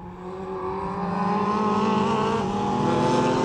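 Race cars at a 750 Motor Club enduro, a field including a BMW, Ginetta G50, Aston Martin V8 and Lotus, roar past with a steady, loud engine drone that swells slightly as they come through.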